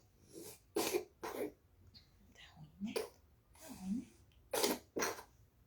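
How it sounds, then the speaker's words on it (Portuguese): A string of breathy, harsh coughs close by, irregularly spaced, with faint whispery voice sounds between them. "Também tá com tosse."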